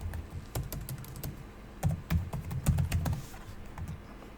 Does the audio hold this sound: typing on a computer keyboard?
yes